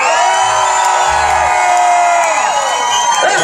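A concert crowd cheers and whoops loudly and continuously, a dense roar of many voices with high yells rising over it throughout.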